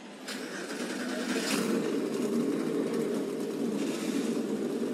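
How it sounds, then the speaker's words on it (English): NASCAR truck engines fire up together at Texas Motor Speedway, a rough, steady rumble that builds quickly and holds loud over distant crowd noise. "Drivers, start your engines."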